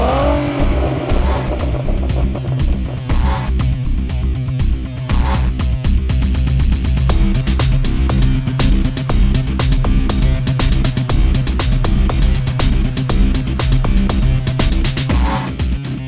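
A 2013 Hyundai Genesis Coupe with a 3.8-liter V6 driven hard on a track, loud close engine note rising and falling through acceleration and gear changes, with brief tire squeal.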